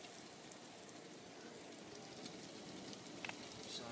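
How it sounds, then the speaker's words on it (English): Garden sprinklers running up the hill, a faint, continuous hiss and patter of spraying water heard from a distance, steady across the whole stretch with a couple of small ticks near the end. "as you can hear, the sprinklers are on up there."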